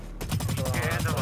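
Rapid automatic gunfire in a capture-the-flag video game, with loud, close, tightly spaced shots firing in a continuous stream.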